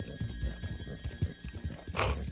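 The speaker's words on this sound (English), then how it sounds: "If you can just take out all their horses, then perfect." Horses in a video game neigh and whinny with a burst of hooves clip-clopping, all amid busy game noise and a constant electronic hum.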